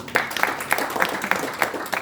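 Applause in a church congregation during a sermon, heard as a short burst of rhythmic, fairly close clapping with evenly spaced claps over a murmur of voices.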